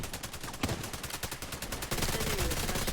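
Rapid shotgun blasts from The Division 2 crack out in a dense, repeating burst, a sharp louder shot standing out partway through before steady continuous firing carries to the end.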